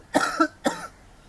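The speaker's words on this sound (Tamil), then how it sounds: "இருமினே இருக்கானே." Two short, sharp coughs in quick succession, close and fairly loud, followed by quiet.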